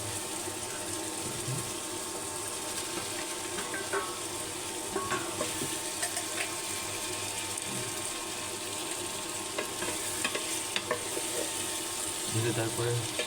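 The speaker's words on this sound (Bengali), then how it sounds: "আলু এবং পেঁয়াজের কষাগুলো সুন্দরভাবে নেড়ে দিতে হবে।" Fried potatoes and onions being stirred together in a pan for an egg curry, a low steady sizzle with faint scraping and occasional clatter, close but fairly quiet and unbroken.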